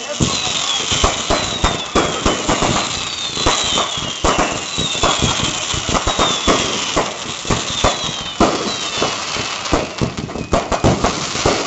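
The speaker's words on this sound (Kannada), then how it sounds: "ಬಾನಂಗಳದಲ್ಲಿ ನಿಂತಿರುವಂತಹ ಪಟಾಕಿಗಳ ಸದ್ದು" Rapid, continuous fireworks burst and crackle loudly at a police sports meet closing ceremony in Bidar, with whistling rockets rising repeatedly amid dense popping.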